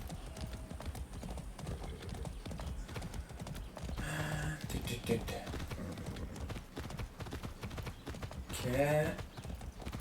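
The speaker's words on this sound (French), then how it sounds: "Mais au moins il y a un cheval." Horse hooves clip-clop steadily in Far Cry 6, running under game music and other in-game noise, with someone briefly speaking over it.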